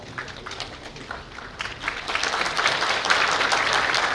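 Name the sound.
applause at a graduation ceremony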